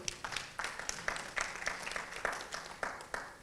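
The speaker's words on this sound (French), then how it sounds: "vous demander encore d'autres applaudissements" Audience applause rings out at a French-language event on Nelson Mandela's impact, a quiet, steady patter of many hands clapping with small bursts, heard alone without talk.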